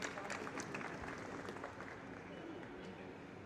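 Applause from the audience at a Rohini Court felicitation ceremony in 2025. Clapping starts strong, then thins and fades a little, with murmured voices from the crowd mixed in underneath.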